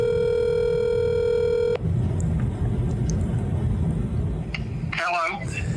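A steady telephone dial tone hums loudly and alone for nearly two seconds as a cell phone call is placed, then cuts off into a low rumbling background with a brief burst near the end.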